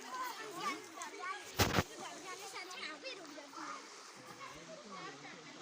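A small river flowing through a valley near Abbottabad, with steady water rushing and one brief louder splash, heard under children's voices and talk nearby.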